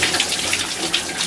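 Water running and draining down a shower drain after a drain cleaner treatment, a steady close gushing splash with small bursts and no voices.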